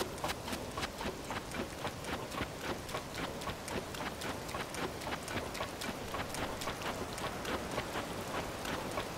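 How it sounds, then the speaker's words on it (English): Rain falls in the video game Zelda: Tears of the Kingdom, a steady patter of drops with faint rhythmic tapping, even and continuous throughout. "And of course it rains."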